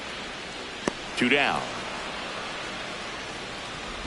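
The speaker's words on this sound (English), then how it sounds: "This rain is not letting up." Steady rain hisses over the stadium in the baseball video game MLB The Show 26, a constant wash of noise with brief commentary speaking over it.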